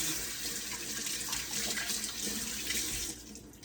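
Water runs from a kitchen tap for a hand wash while homemade pineapple lemonade is being made, a steady close hiss that stops abruptly near the end.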